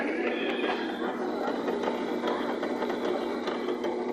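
LG washing machine with a faulty gear case assembly, spinning with a steady mechanical whirring hum and faint rhythmic rattling, continuous and moderately close.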